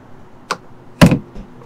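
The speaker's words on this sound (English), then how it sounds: "Slam latches on the front cap storage" Slam latches on the front cap storage door of a Brinkley Model Z 3100 fifth wheel give two sharp, close clunks, a lighter click followed by a heavier snap, with a faint rattle after.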